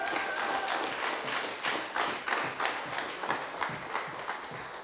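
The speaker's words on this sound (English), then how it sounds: "Give this man a round of applause." An audience at a youth political event in a college hall applauds steadily, a dense wash of many hands clapping that holds for several seconds without talk.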